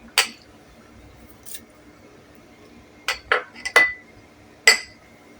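Ginger, onion and green chilli dropped one after another into a steel mixer jar, giving a handful of short, sharp clinks and clatters spaced apart, close and fairly clear, with quiet gaps between and no talking.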